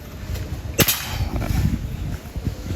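A Rembol Monel Gen 2 airsoft gun fires during an FPS test, giving one sharp, snappy crack near the start and then a few fainter pops over a noisy background.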